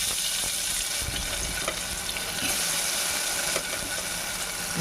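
Paneer pieces frying in hot oil in a pan, a steady dense sizzle that runs without a break, with small occasional clicks of stirring and no voices.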